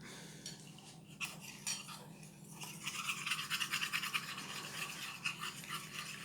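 Homemade hydroalcoholic hand sanitizer gel being mixed in a container, a soft rapid scraping and clicking stir, faint and close, growing busier partway through, with no voices.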